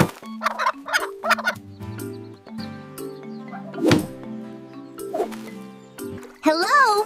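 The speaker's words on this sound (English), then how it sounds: "Hi, I am a turkey." A turkey on a farm gobbles up close and loud in rapid, rattling bursts, with clucking calls between them. Music plays underneath, and a short trilling call closes the sequence.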